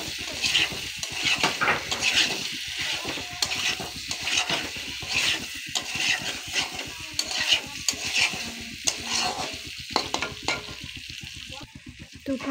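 Fried eggs are sautéed in a spice masala in a pan for an egg curry, giving a continuous sizzle with repeated scraping stirs and clinks of the spoon against the pan, close and without speech.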